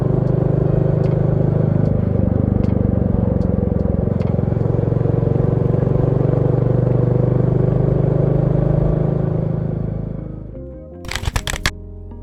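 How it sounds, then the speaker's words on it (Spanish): A Royal Enfield Meteor 350 motorcycle engine idles with a steady, rumbling note and low throbbing exhaust for about ten seconds, then cuts off, followed by a few brief clattering knocks. "la increíble sensación que genera el sonido retro del motor, perfectamente afinado por el diseño del tubo de escape"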